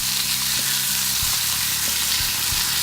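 Salmon fillets sizzle loudly in a hot pan as sweet chili glaze is poured over them, a constant dense frying hiss with a few soft clicks and knocks, no speech.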